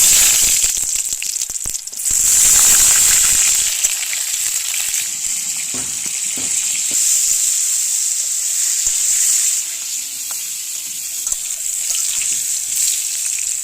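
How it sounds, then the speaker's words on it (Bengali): Pointed gourd (potol) frying in hot oil, a loud continuous hissing sizzle up close, with a few faint scrapes and taps of a spatula scattered through it. "এবার পটলগুলো ভেজে নেব।"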